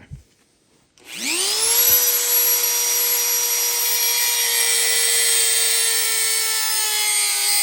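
A Dremel rotary tool spins up with a rising whine, then cuts down the center of a part on an XR250 dirt bike shaft, a loud, steady, high-pitched grinding close by after a brief quiet start.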